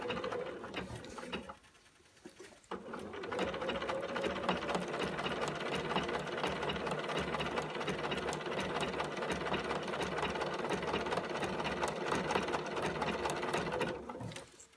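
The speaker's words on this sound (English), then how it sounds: "When I'm going around a pretty tight curve, I raise my presser foot, but I also pay attention to where I am in the progression of the stitch." A sewing machine stitches a tight curve on denim jeans around a zipper, a close, loud, steady rattling hum broken by one short pause near the start.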